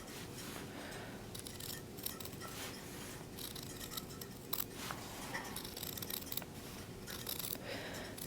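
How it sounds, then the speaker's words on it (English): Scissors cut through two layers of fabric with a steady run of quiet snips and crisp slicing, close by and with no talking. "You're cutting all the way through both layers."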